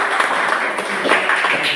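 A classroom audience claps for the fifth group, a brief, even wash of many hands clapping together at steady loudness.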